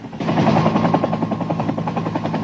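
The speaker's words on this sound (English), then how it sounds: "Helicopters pulled some of the teenagers from trees." A rescue helicopter's rotor chops steadily and loudly with a rapid, even thudding pulse during a flood rescue on the Guadalupe River, close and continuous with no voices.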